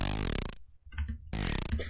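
Raw, unprocessed saw wave synth growl with only a touch of widening, two buzzy, harsh bursts separated by a brief gap with a faint low blip, loud and alone.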